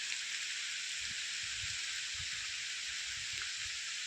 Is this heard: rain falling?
yes